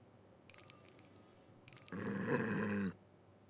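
High, shimmering bell tones from the Ace Attorney Investigations 2 video game ring in two bursts, the second overlaid by a rough, growling noise, with no voices.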